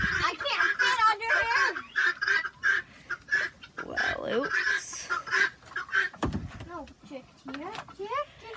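Backyard chickens, including a rooster, cluck and make rising, warbling calls in short repeated bursts close by, with people talking among them.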